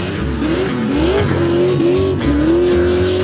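A drift car on a drift track gives a loud, continuous squeal of tyres over a droning, wavering engine note, close and unbroken for a few seconds with no talking.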